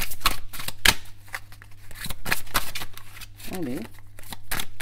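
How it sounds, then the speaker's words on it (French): Tarot cards being shuffled by hand, a few quick riffling bursts close by, mixed in with someone talking in French over a steady low hum. "Je finis par croire que c'est moi qui ne sais pas battre ces fameuses cartes."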